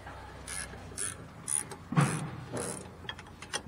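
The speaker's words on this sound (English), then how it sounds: "Loosen both your top and bottom caliper bracket bolts" A wrench ratchets and clicks in short bursts while loosening the rear brake caliper bracket bolts on an Infiniti FX35, quiet and close, with faint metallic creaks between the clicks.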